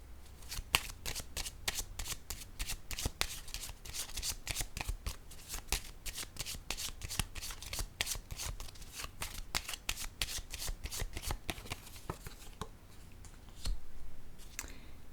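Tarot cards shuffled in a rapid, steady run of crisp riffling clicks, close and fairly loud, then a brief soft pause and a card laid down near the end.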